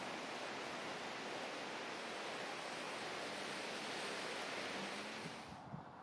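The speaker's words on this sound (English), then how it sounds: "As you can probably hear, it's a major waterfall." A steady roaring rush of falling water from a major waterfall in the San Juan mountains fills the scene, broad and continuous, fading slightly at the end.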